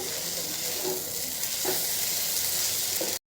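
Boiled vegetables with squeezed lemon juice are stirred in a hot pan, making a continuous close sizzle with a few soft scraping strokes before the sound cuts off abruptly.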